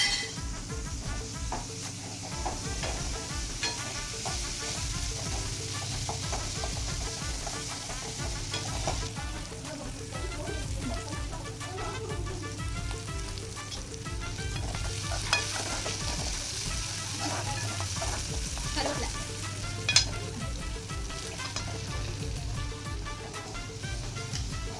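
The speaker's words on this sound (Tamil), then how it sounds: "பொன்னிறமா வறுக்கணும் வெங்காயத்தை." Onions frying until golden in a pan for a potato fry, a steady close sizzle with occasional stirring scrapes and utensil clinks, continuous throughout with no talking.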